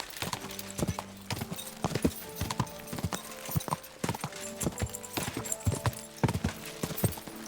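Horse hooves clip-clop in a steady, close rhythm on a hard surface, each strike sharp and distinct, continuing throughout.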